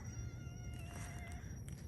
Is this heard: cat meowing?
yes